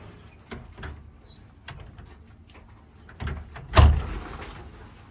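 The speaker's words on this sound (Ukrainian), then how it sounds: "і двері закрили." A door in a chicken coop is pulled shut with a firm thud near the end, after a few softer knocks and rustles in a quiet room.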